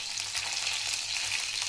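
Chopped coriander hitting a hot pan of ridge gourd thecha, with a steady bright hiss and crackle of frying oil, close and continuous, without voices.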